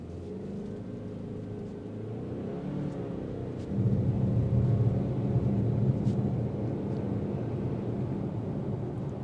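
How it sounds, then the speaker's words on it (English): Road noise inside the cabin of a 2026 Subaru Ascent Touring on 20-inch wheels, a steady low rumble and tire roar that swells slightly partway through, continuous and moderately loud with no talking. "It's really just the wheel well area that gets all that road noise because of the 20-inch wheels."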